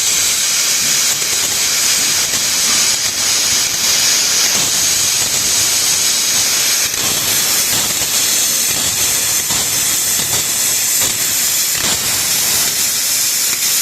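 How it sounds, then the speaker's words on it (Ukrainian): A plasma cutter on a weak 160-volt supply hisses steadily with its pilot arc, which keeps trying to strike and fails to light; a loud, unbroken broadband rush with faint flickers, and no voices. "Пілотна дуга. Хоче запалитися і не може."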